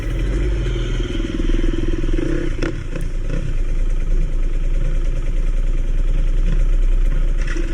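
A motorcycle on a training ride, its engine droning loudly and steadily throughout, close to the rider with some clattering and wind rumble mixed in.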